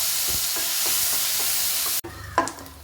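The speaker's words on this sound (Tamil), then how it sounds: "அந்த எண்ணெயிலேயே இந்த தேங்காயை நல்லா வறுத்து எடுத்துடணும்." Grated coconut frying in oil in a pan after urad dal, a steady broadband sizzle with faint scraping stirs for two seconds, then a sudden drop to quieter, clattering pan sounds.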